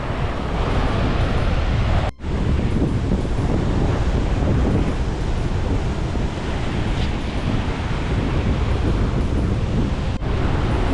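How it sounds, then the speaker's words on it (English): Strong wind buffets a microphone on a public beach with surf rolling behind it, a dense, loud, continuous roar with brief dropouts and no talk. "But it's so windy."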